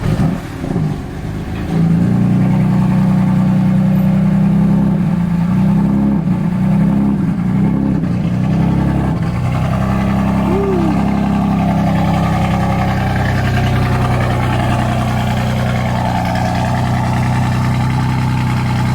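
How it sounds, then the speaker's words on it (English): A turbocharged BMW engine cranks and catches, then settles into a loud, steady, throbbing idle with a brief rev partway through. "he's gonna start it up for us so we can hear the turbos"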